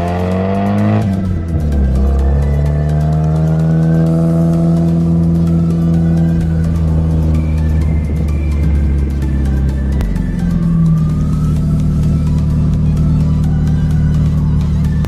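A Mazda Miata's engine revs hard, climbing through several rising pitch sweeps, dipping, then surging again with a sharp second burst of acceleration; loud, close and uninterrupted, with no talking.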